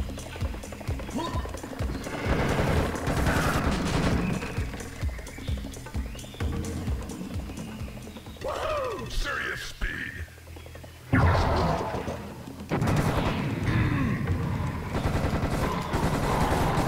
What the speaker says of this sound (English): Let's get that machine gun out.